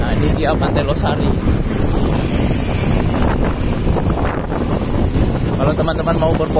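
Strong wind buffeting the microphone at Losari Beach in Makassar, with a loud, continuous rush that mixes with the wash of waves by the sea.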